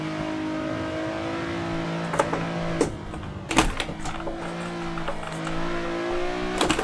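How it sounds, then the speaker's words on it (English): Nissan 370Z Nismo engine driven hard around the Nordschleife in Assetto Corsa, a loud, close, sustained drone with revs climbing and dropping through a few sharp gear changes. "As you can see, I am pushing this car now."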